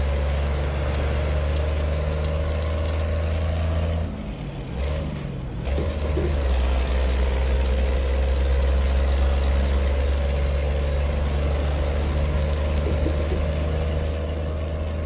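Loud, steady drone of a Volvo VM 330 truck engine with a 310 motor in Euro Truck Simulator 2, hauling 42 tonnes of soy, running continuously throughout with a brief air-brake hiss and dip near the middle.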